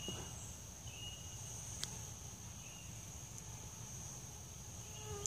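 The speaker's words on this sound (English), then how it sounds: "I can't stand to be in all these mosquitoes like that." Mosquitoes swarm outdoors, giving a faint, thin, high-pitched whine that holds steady over a low background hum, with a few tiny clicks and no talking.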